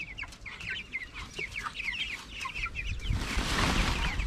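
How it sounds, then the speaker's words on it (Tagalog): Native chickens cluck in a steady run of short repeated calls, fairly close and alone, with rustling and broadband noise swelling toward the end. "malaki pinagbabago ng ating mga alaga manok sa araw-araw na lumilipas"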